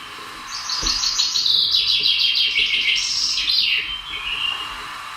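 A chaffinch delivers a cheerful, accelerating trill that tumbles downward into a final flourish, heard close and clear over faint outdoor background.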